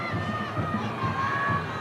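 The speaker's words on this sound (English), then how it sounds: "Crowd don't like it." Rugby league crowd at Bradford versus Wigan groaning and murmuring in disapproval, a steady dense roar of many voices throughout.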